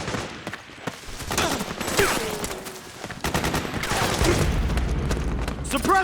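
Machine gun fire in the video game Metal Gear Solid 4: dense rattling bursts and scattered shots in a battle scene, mixed with booms and shouted voices.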